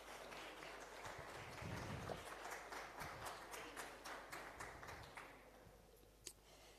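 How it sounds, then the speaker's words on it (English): An audience at an economic update event gives the minister a round of applause, soft, scattered clapping that rises briefly, then thins out to a few last claps. "can we give our minister a very warm round of applause"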